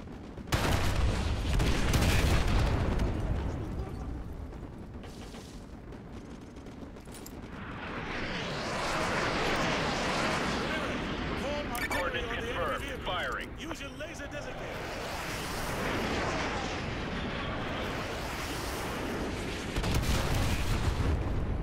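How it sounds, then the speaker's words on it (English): An artillery barrage in the Call of Duty Modern Warfare 2 campaign, with heavy booms and crackling bursts of explosions rolling through in loud waves, mixed with a dense battle din. "Fire mission received. Artillery inbound."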